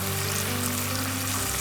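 Garlic fish sauce bubbles and sizzles as it boils in a pan, a dense crackling hiss that stays steady throughout the short moment.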